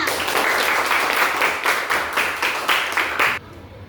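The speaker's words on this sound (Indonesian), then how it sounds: "silakan udah beri tepuk tangannya" A group of children clapping in steady, rhythmic unison, loud and close, with the clapping stopping abruptly at the end.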